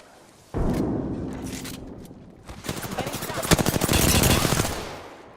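Gunfire in a shooter video game, rapid automatic bursts with a distinct rattling rhythm that swells to a sustained loud volley, close and intense, with a voice speaking over parts of it.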